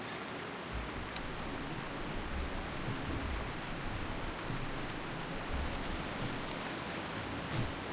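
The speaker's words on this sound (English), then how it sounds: "When it's not pouring rain, we can turn it back up or something." Steady, dense rain hisses continuously throughout, a heavy downpour in World of Warcraft Classic with no pauses and no voices.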